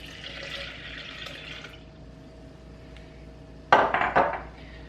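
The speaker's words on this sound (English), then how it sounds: "To our rinsed hibiscus flowers, we will add 4 cups of cold or just room temperature water." Cold water poured over rinsed dried hibiscus flowers in a kitchen, a short splashing burst near the end after quiet background hiss, with a faint clink of a container.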